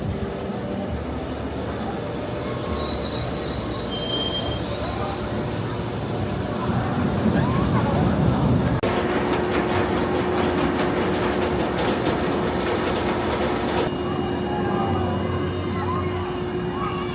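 A roller coaster train at Silver Dollar City runs along its track with a continuous rumbling roar and rattling clatter, rising and changing in texture as it moves, loud and close throughout, with voices mixed in.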